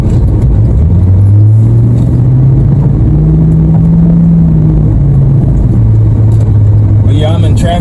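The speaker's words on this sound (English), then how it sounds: "Okay, I'm in traffic." Inside a Lincoln Town Car in traffic, a steady low engine hum and road rumble drone on continuously and loudly, with a slight rise in pitch partway through.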